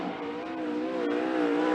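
A 360 sprint car screams around a dirt oval during a hot lap at Skagit Speedway, its loud engine note holding steady and rising slightly as it passes close by, with no talk.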